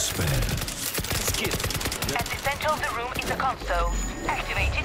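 An automatic turret in World War Z fires a steady, rapid stream of shots, loud and continuous throughout, with a voice speaking over the chatter of gunfire.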